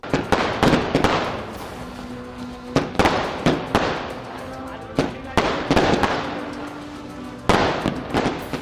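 Diwali firecrackers and fireworks burst one after another in sharp, loud bangs with crackling tails, some close together and some spaced apart, over a background of voices and festive bustle.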